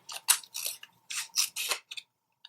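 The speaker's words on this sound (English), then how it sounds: "I think I'm going to cut it in half though." Scissors snip through gold glitter cardstock in a series of about eight quick, close, dry cuts with short pauses between them, no voices present.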